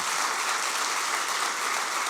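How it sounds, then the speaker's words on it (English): An audience at a seminar honouring a financial confidence coach gives a dense, even round of applause, loud and continuous throughout without a break. "Once more, round of applause for Shankar."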